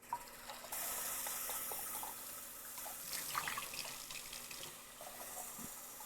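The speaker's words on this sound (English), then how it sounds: "let me dump this out and rinse it" A glass being emptied and rinsed under a running kitchen tap, steady water flow pouring close by for several seconds with small splashes and clinks near the end.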